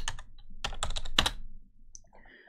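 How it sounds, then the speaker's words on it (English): An ipconfig command typed on a computer keyboard at a Windows command prompt, heard as a short close run of crisp key clicks that ends in a quieter stretch. "I will type ipconfig/all"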